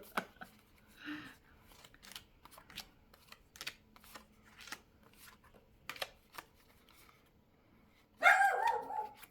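A single dog bark or short burst of barking near the end, after a stretch of quiet shuffling and scattered small noises.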